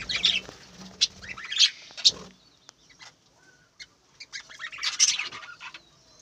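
Birds at a village home give scattered sharp chirps and clucks with occasional wing flaps, close and intermittent against quiet gaps.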